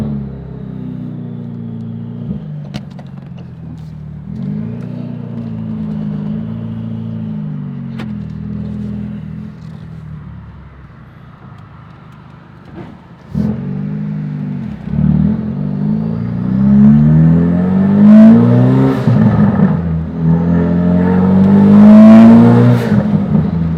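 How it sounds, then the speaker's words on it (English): A 2017 Ford Focus RS accelerates through several surges with gear changes, the engine rising and dropping in pitch, and sharp turbo flutter chirps punctuating each lift-off, growing louder toward the end. "that turbo flutter"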